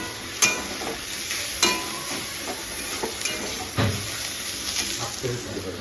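Bottle gourd peel being fried and stirred in a pan for a vegetarian meal, with a steady sizzling hiss broken by several sharp scrapes and clinks of the spatula at irregular intervals.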